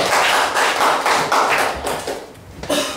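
A classroom of students claps hands quickly three times, giving a brief, dense burst of many hands slapping together at close range, with no speech.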